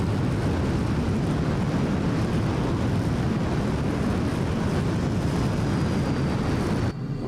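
Jet afterburner in Microsoft Flight Simulator roaring steadily and loudly through a takeoff run, a dense broadband rumble with a faint rising whine, cutting off abruptly near the end.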